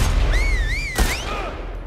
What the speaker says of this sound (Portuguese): três tiros pra matar o cara